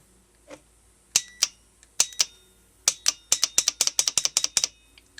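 A car starter solenoid clicks sharply again and again, first two separate clicks and then a fast run of about a dozen, loud and close against a quiet background.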